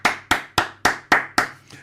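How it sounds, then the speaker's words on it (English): Six sharp hand claps in a steady, evenly spaced rhythm, each a loud close burst with a quick decay and no voices between them. "And do you know why I'm clapping?"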